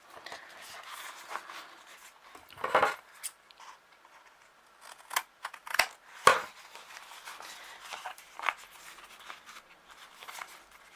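Scissors snip and trim wrapped chipboard for a mini album, close and quiet with irregular crisp cuts and paper rustles between them.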